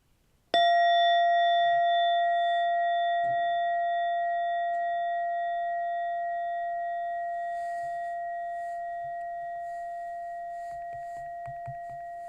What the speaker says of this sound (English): Now in a moment, you'll hear a bell or a chime. Listen to it as it gets quieter and quieter.